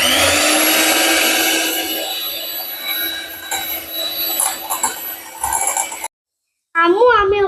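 A kitchen blender whirs loudly and steadily as it mixes oil, eggs and sugar for a mango cake batter, its motor pitch wavering before cutting out abruptly; a voice speaks over the noise right after it stops.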